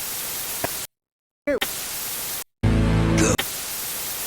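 Loud, steady hiss of retro television static from a virtual TV on a website, broken by brief silences and channel-change blips, with a buzzing tonal burst near the end; no talking.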